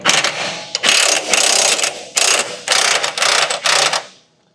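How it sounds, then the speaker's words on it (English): A big 3/4-inch impact wrench hammers on tight axle bolts of a Freightliner three-axle truck in several loud, close rattling bursts separated by brief pauses, ending abruptly. "So I'm just going to stick my big 3/4-inch impact in there."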